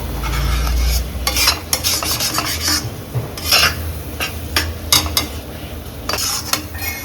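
Masala frying in oil for Karnataka chicken curry, sizzling loudly up close while a spoon scrapes and clatters against the pot in irregular stirring strokes.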